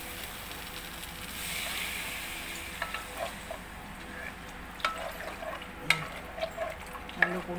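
Coconut milk being stirred in a hot pan in a home kitchen, a faint low sizzle under soft scraping and occasional sharp clinks of utensil against the pan, irregular and close.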